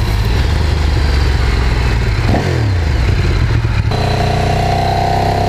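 A Ducati Streetfighter track motorcycle engine drones loudly and steadily during a ride, with a pitch sweep as it revs and shifts midway, dominating the sound without any speech.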